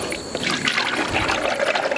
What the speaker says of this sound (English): You just dump it on in there,